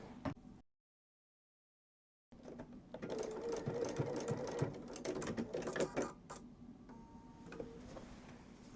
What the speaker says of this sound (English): So give me a moment to just sew on my labels, and then I'll get started sewing the binding on.